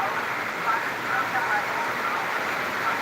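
Heavy rain pours down steadily in a continuous, dense hiss with no breaks, filling the scene at a fairly loud, even level from start to finish.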